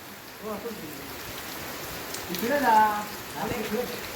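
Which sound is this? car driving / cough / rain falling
rain falling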